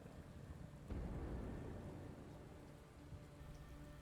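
Steady rain hiss from the wrathful rain ability in the video game Othercide, rising sharply into a denser downpour wash after a quiet start and holding at moderate loudness, with no voices.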